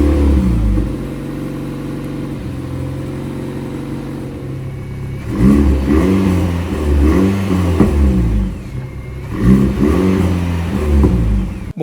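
An Alpine A110R engine and exhaust rev repeatedly, loud and close, each blip rising and falling in a rhythmic run of throaty bursts after a steady idle, with no voices.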